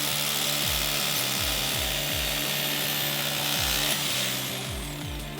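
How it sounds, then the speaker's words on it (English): Power drill boring a second hole for a stair-mounted grab rail, a loud continuous whirring with repeated motor speed swells and surges, close and steady throughout with no talking. "you can go ahead and drill your second hole"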